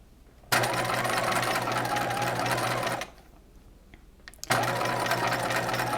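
A sewing machine runs in two steady, loud bursts while stitching a keyhole bodice, a continuous whirring hum with a short quiet pause between them.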